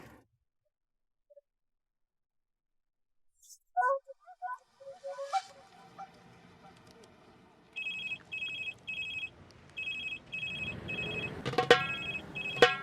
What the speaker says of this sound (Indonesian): Itu HP kamu bunyi.